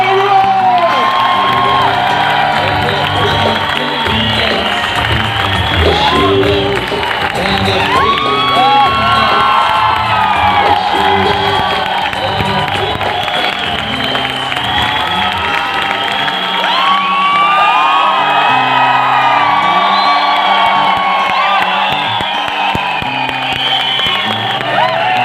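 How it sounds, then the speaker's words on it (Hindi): An audience at a success-story event claps and cheers loudly throughout, with whoops and shouts over dense, continuous applause while music plays underneath. "तो जोरदार ताली से कीजिए"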